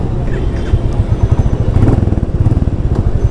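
A Royal Enfield Classic motorcycle engine fires up from neutral and settles into a loud, close, deep thumping idle with a steady rapid beat, no voices over it.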